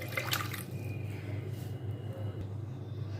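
Water poured from a small mug into a bowl, a brief splashing pour at the start that settles into a faint trickle over a low background hum.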